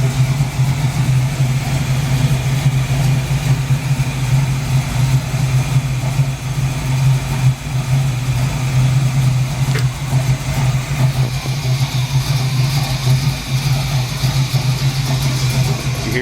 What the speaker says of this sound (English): When I unplugged it, the engine slowed down.